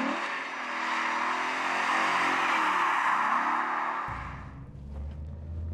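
Car engine revving hard as the driver clutch-kicks a car sideways into a drift through a corner, loud sustained roar rising and falling, then dropping to a lower idle rumble near the end.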